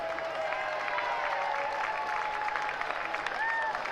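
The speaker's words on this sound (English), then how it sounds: "make a bit of noise for Tara Rigney." A grandstand crowd at a schoolgirl rowing regatta applauds and cheers, a dense steady wash of clapping with whoops and shouts rising over it, fairly loud and close.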